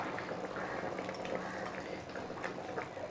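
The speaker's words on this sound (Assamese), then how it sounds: "এয়া মই অকণমান জোল বনাইছোঁ গ্ৰেভি টাইপ নহয় খুব ধুনীয়াকৈ উতলি আহিছে" A pot of pumpkin and freshwater shark fish curry simmers at low volume, a soft steady bubbling with small pops and liquid gurgles, close but quiet.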